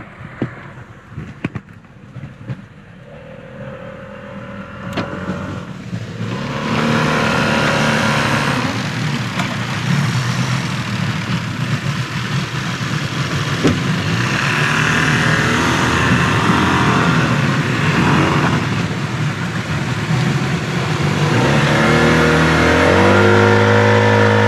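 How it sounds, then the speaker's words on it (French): A small boat with an outboard motor tows a barge loaded with three cars in Bolivia; the motor drones steadily and fairly loud, rising and falling slightly in pitch under wind and open-air noise. "une espèce de barque avec un moteur hors bord"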